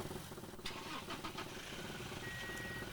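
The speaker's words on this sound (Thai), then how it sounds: "เสียงรถกระบะคันนี้แน่เลยผมว่านะ" A low pickup truck engine in a Roblox racing game idles steadily in the background, faint and droning, with a few soft clicks and a thin tone near the end.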